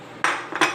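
A spoon stirs a calamansi juice and black pepper mixture in a bowl with two quick clinks against the side, close and crisp, separated by a short pause.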